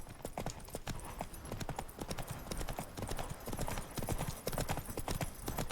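Horse hooves gallop in The Witcher 3: Blood and Wine, a steady run of clip-clop strikes repeating at a brisk, even pace throughout, close and moderately loud, with occasional faint game sounds underneath.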